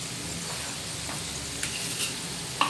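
Masala fries on a hot tawa with a steady close sizzle and soft crackle, and a few faint stirring scrapes over the short span.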